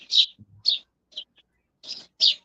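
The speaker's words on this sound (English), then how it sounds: "The birds sound nice today." Birds chirp outdoors in short, sharp bursts spaced across a quiet moment, clear and fairly close, with a faint low sound briefly in between.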